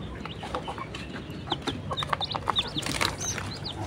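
Village hens and newly hatched chicks cluck and peep in a coop, with short, overlapping chirps and clucks at close range and no speech.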